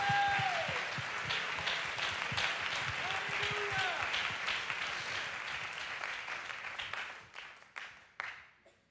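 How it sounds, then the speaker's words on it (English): A church congregation at a Five Fold Ministry Conference claps along in a steady rhythm with voices over it, the sound holding for several seconds before thinning into scattered claps and fading out. "Clap your hands if you believe we're on our way"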